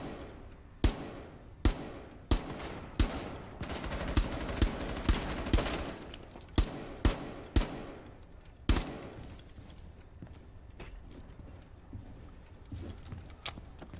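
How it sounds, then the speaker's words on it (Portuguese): Gunfire exchange in Rainbow Six Siege during a ranked solo match, a string of sharp, loud shots in irregular bursts, closely spaced in the first half, then a quieter tail without shots. "eu não vou ficar trocando tiro com esse cara"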